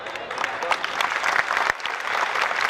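An audience at a political speech by a Union minister in Khurai breaks into a short burst of dense clapping, with a voice speaking over it.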